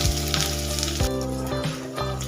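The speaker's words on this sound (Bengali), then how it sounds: "তেলটা আমাদের গরম হয়ে গেছে, এর মধ্যে পেঁয়াজগুলো দিয়ে দেবো।" Sliced onions hitting hot refined oil in a pan, with a loud, continuous sizzle and crackle of frying close by.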